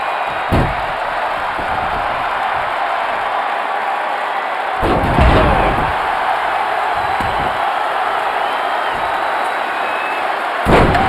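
Wrestler's elbow drop slam in WWE 2K20, several heavy thuds crashing over a constant roaring arena crowd, the loudest impact landing near the middle.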